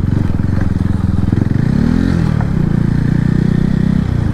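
A motorcycle exhaust backfiring while the engine revs, loud and close throughout, with a rising and falling engine drone and a few faint pops.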